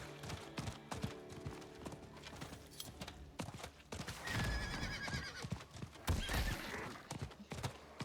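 A horse in a fantasy video game clip-clops along at a steady, rhythmic gait, with whinnies and neighs partway through, clear and close, with no speech over it.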